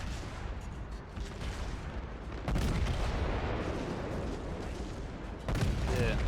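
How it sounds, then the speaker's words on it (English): Heavy naval gunfire from the battleship New Mexico in World of Warships, firing on a heavy cruiser in deep rumbling booms: a sustained salvo roar midway, then another blast near the end, under a constant loud battle din. "The next target I'm going to shoot at is the Aoba."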